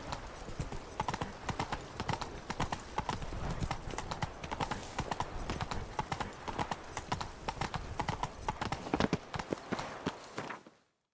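Roach, the horse in The Witcher 3: Wild Hunt, clip-clops along at a quick, even pace, hoofbeats loud and close, ending abruptly in silence.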